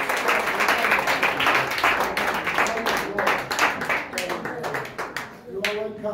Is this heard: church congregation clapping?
yes